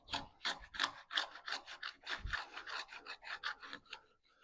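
A hand woodworking tool, likely a plane or rasp, shaves soft pine clamped down, giving a rapid series of rasping strokes, close and fairly loud, steady rhythm for several seconds with no talking.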